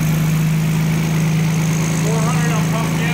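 A Harley-Davidson motorcycle engine runs steadily on a dyno, a loud continuous low idle-like drone with constant vibration throughout, and faint voices mixed in under it.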